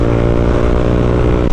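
Honda CB150X motorcycle ridden on a long highway trip while running hot, its engine giving a steady loud droning hum with a dense harmonic buzz and no talking.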